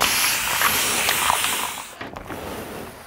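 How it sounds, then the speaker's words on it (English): Steam mister spraying fabric during ironing while sewing a tote bag, a steady close hiss that runs for about two seconds and then gives way to softer rustling and faint handling sounds. "Now I'm gonna hit it with the iron and I am gonna use my steam mister"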